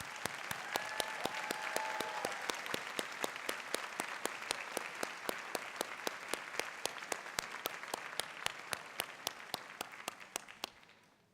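A graduation audience of students, family and faculty applauds with dense, steady clapping for about eleven seconds at moderate distance, then fades out at the end.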